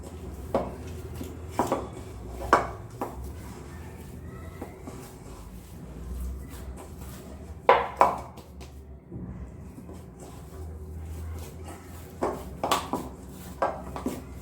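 Masala puri dough of flour, water and about a tablespoon of oil worked together in a kitchen bowl, with intermittent clinks and scrapes of a utensil against the bowl in short clusters, fairly close and without talk.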